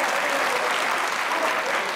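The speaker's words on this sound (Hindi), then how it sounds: "यार बजा दे तालियां यार।" A studio audience at a Pakistani comedy talk show claps loudly and densely, a continuous wash of applause filling the whole moment.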